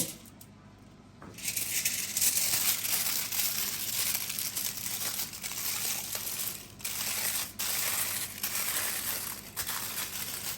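Doner kebab wrapped and rolled in aluminium foil, steady close crinkling and crumpling with brief rustling pauses, no talking.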